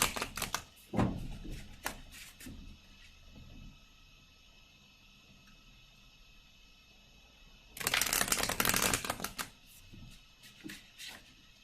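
Tarot cards are shuffled in quick riffling bursts, a short one early and a louder, denser run near the end, with quiet stretches in between.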